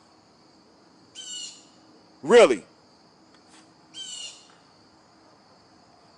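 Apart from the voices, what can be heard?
birds calling outdoors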